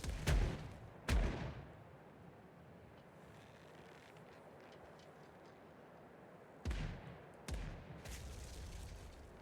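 Ship cannons firing in the pirate video game Caribbean Legend, two booming blasts close together, a quiet stretch of wind and sea, then two more heavy shots.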